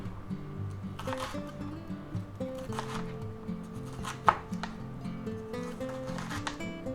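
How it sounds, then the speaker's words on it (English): A knife cuts food into quarter-inch sections for sausage and pepper subs, giving soft, irregular chops on a board beneath a background of music, with one sharper knock partway through. "I think we better chop them up into like 1/4-inch sections"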